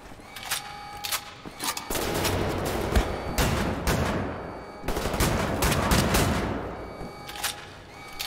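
Rapid gunfire from weapons in the shooter game Wolfenstein: The New Order, loud bursts and volleys coming in dense clusters with brief gaps, with no talking over them.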